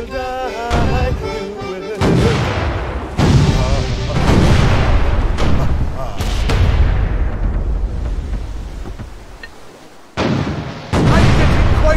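Repeated booming cannon blasts from a pirate ship in a naval battle video game, several loud heavy shots that crash in and decay over the full stretch.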